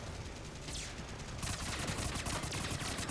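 Rapid submachine gun fire from the game Mass Effect 3 on Insanity difficulty, fought against a Geth Prime, as a continuous burst of automatic shots that grows louder partway through, with dense crackle and no voices.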